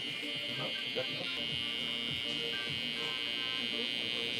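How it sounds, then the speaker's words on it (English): An electric shaver buzzes steadily during a barbershop flat-top and skin-fade haircut, a constant close hum that runs through the whole moment. "Right after this, we're gonna be using the shaver."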